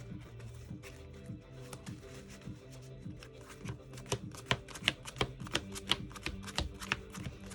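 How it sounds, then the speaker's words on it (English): A 40-card deck being pile shuffled into piles, a run of crisp snapping taps that speed up and grow louder, close by with no talking. "And we're just gonna do a quick pile shuffle."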